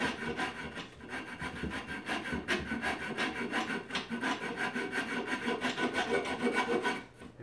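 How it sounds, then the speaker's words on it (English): A hand rasp files steadily at a block of wood being shaped into a mallet, with continuous, close scraping strokes running unbroken throughout and no talking. "I think the rasp is going to help a lot"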